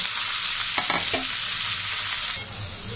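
Chopped vegetables crackle in oil left over from frying fish, giving a loud, continuous hiss with a few soft stirring knocks and no speech.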